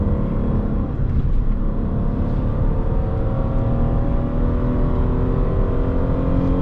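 A 2009 Hyundai Azera with its 3.3-litre V6 pulls hard under acceleration, a loud, continuous engine drone with rising harmonics and heavy low rumble, heard from inside the car with no talk.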